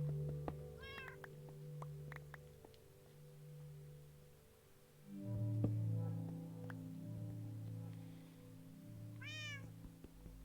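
A cat in Minecraft hardcore mode meows twice, once early and once near the end, each short and rising, over layered low game music and ambient tones.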